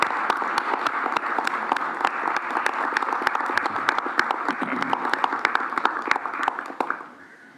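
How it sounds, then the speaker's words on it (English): An audience at a town meeting claps for a woman called up front, a steady crowd of sharp individual claps that fades out at the end. "Just give her an applause to get her going."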